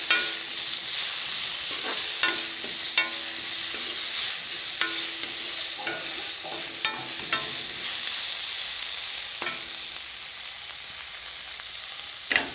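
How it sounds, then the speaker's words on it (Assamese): Ginger and garlic frying and being stirred in a pan until the raw smell cooks off, a steady close sizzle with repeated scraping stirs and clinks of the spoon throughout, no talking. "লগতে অকণমান কেঁচা গোন্ধটো যোৱালৈকে ভাজি ল'ম"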